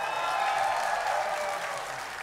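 A convention crowd at a comic con in Naples applauds loudly at a video game preview event, a thick, sustained wash of clapping that eases slightly toward the end.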